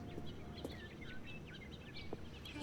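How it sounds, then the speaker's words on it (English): Birds chirp and twitter throughout a quiet outdoor greenery area in the video game The Stanley Parable, with short bright calls repeating at a moderate distance over a steady low ambient hum. "And you can hear the birds"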